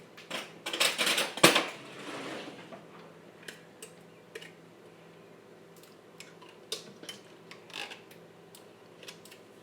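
Canned pumpkin scraped from the tin into a medium saucepan, a burst of loud metallic clinks and scrapes at the start, followed by quieter scattered taps and knocks of the utensil against the pan.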